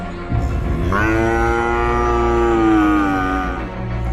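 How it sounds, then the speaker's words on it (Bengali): A tethered cow in a cartoon lets out one long, loud, drawn-out moo in fear, close and rising in pitch before tailing off, with no speech. "বাঁধা গরুগুলো বাঘটাকে দেখে ভয়ে জোরে জোরে ডাকতে থাকে।"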